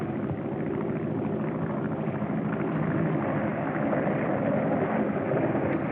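Propeller plane flying overhead, heard in an early-1930s adventure serial with a muffled, band-limited soundtrack: a steady engine drone with wind-like rush, fairly loud and continuous, no voices.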